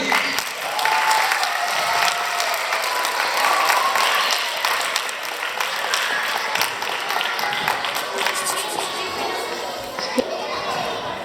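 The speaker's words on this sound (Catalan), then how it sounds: "Un aplaudiment pel Jordi." Applause from a Christmas concert audience at a school in Valls, steady dense clapping with children's voices and chatter mixed in throughout, near and continuous.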